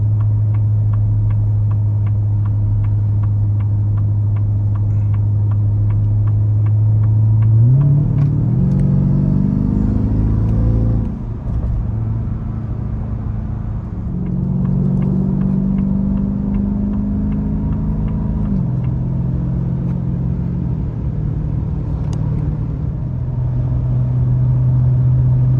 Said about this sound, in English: what this truck sounds like or how it is cruising down the highway